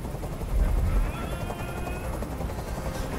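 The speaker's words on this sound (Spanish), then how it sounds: "¡Dile a ese helicóptero que se vaya de aquí!" A helicopter from the video game Detroit: Become Human hovers with a loud, steady rotor roar and rumble, a brief heavier burst early on, and faint tones above, with no talking.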